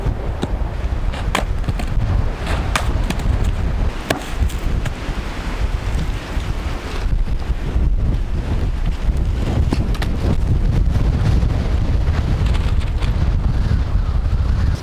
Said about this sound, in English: The wind's died down a little bit, just the odd gust every now and again.